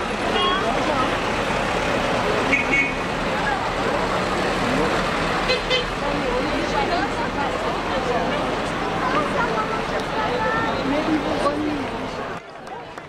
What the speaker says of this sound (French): On arrive maintenant à la fin de ce cortège de voitures anciennes